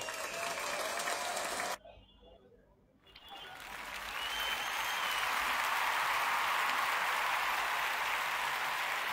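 Applause for giveaway winners: a steady wash of clapping drops out abruptly into near silence for about a second, then fades back in and builds to a sustained, even roar of crowd applause.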